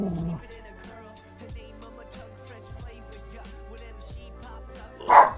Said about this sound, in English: Just a woof. Just woofing.